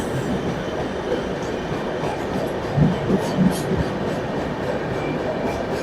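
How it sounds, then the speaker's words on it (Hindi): A Janshatabdi Express train on the Sambhajinagar to Mumbai route runs out of a tunnel, giving a steady rumbling roll of wheels on rails with a few squeals and clanks over the continuous noise. "अब बाहर टनल के बाहर जो है ट्रेन जाती हुई नजर आ रही है।"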